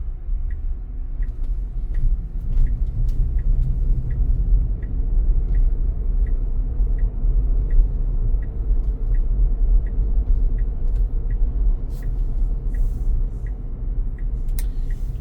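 Tesla on FSD (Supervised) pulling away from a stop and cruising, heard from inside as a steady low road-and-motor rumble, with a faint regular ticking like an indicator running throughout.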